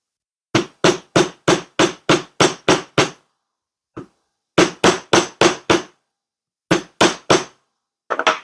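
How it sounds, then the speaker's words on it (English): A mallet strikes a metal jump ring seated on a mandrel over a bench block, ringing out in quick, evenly spaced bursts of sharp, close, loud taps, with short pauses between the runs and no talking. "You can also use the bench block and mallet technique on this as well, where you can put it back on the mandrel."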